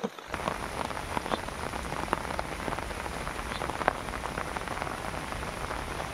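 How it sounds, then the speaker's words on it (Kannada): Heavy monsoon rain pours steadily in a village beside green paddy fields, a dense, even hiss of drops on surfaces with faint scattered patters, continuous throughout and with no voices. "ಅಷ್ಟು ಜೋರು ಆ ಕಡೆಯಿಂದ ಮಳೆ ಬೀಳ್ತಾ ಉಂಟು"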